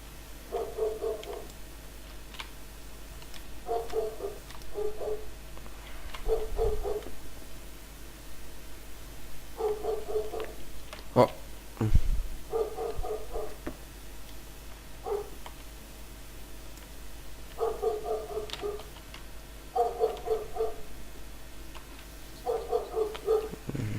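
Dog barks in short repeated bursts in a Brick-Force team deathmatch game, clusters recurring every few seconds at moderate level over a steady hiss of background noise.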